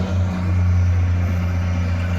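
GERMINA URSM 3000 remote-controlled humanitarian demining machine starting to drive, a steady low engine drone with a strong hum, continuous and fairly loud throughout, no speech.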